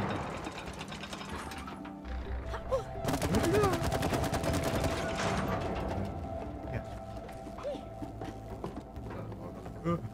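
Rapid bursts of gunfire from the co-op video game It Takes Two, a dense rattling volley swelling mid-clip over game effects, with people talking alongside.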